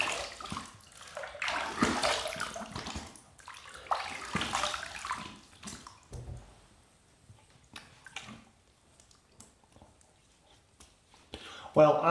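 Water runs in a sink as a Gillette safety razor is rinsed between shaving passes, a fairly loud splashing wash in the first half that thins to faint trickles and scattered drips.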